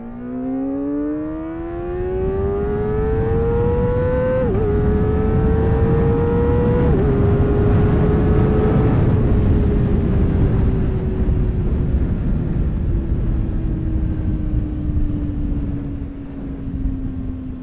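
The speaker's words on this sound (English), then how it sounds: "See how I'm quick shifting down to 3 gear, making this turn." A motorcycle fitted with a quickshifter rides through a turn, its engine note rising, dipping with quick blipped downshifts, then pulling steadily away, loud and close with wind noise and no talk.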